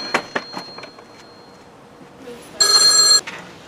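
A telephone rings once, a loud bright burst of bell tone near the end, after a few soft knocks and a quiet stretch of room sound.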